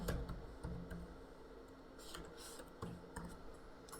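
Fingers tap keys on a computer keyboard while entering PAN card details into an online tax form, a loose run of close, light clicks with a few sharper strokes and no speech.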